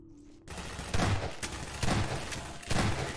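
A grenade launcher firing in Half-Life: after a short quiet start, three evenly spaced heavy thumping shots ring out over a constant background rumble.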